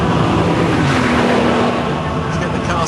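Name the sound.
sports car accelerating in fourth gear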